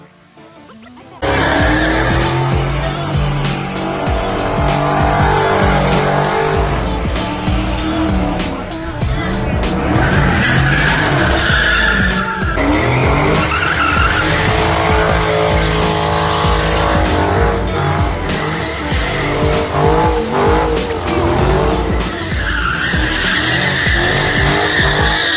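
A Dodge Challenger Scat Pack doing a burnout: a loud, sustained roaring engine with long, shrill tire squeals rising and falling for about 25 seconds, close and intense after a brief quiet start.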